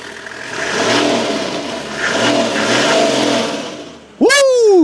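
A diesel Toyota Land Cruiser 40 series runs loud and close, its engine rising and falling through revs before a sudden bright burst at the end.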